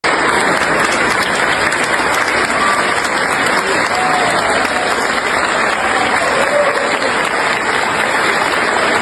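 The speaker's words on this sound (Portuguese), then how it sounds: "o aplauso, como ele foi ovacionado numa missa lá no Rio de Janeiro." Congregation at a Catholic mass in Rio de Janeiro giving a government minister a standing ovation: loud, sustained applause filling a large space, steady throughout with crowd murmur beneath.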